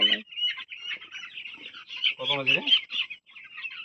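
A chicken held and tied in cloth for vaccination clucks and chirps in short, agitated bursts up close, while someone talks over it.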